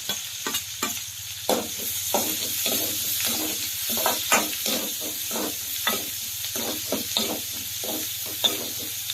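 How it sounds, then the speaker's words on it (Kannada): Garlic and chopped onion fry in a pan for a village palak sambar, a close, steady sizzle broken by repeated scraping stirs at an uneven rhythm, with no talking. "ಇವಾಗ ನೋಡ್ರಿ ಬೆಳ್ಳುಳ್ಳಿ ಹಾಕ್ತೀನಿ. ಈಗ ಆಮೇಲೆ ಈರುಳ್ಳಿ ಕಟ್ ಮಾಡಿರ್ತೀನಿ ಅಂದ್ರೆ ಅದನ್ನ ಕೂಡ ಹಾಕಿ ನೋಡ್ರಿ."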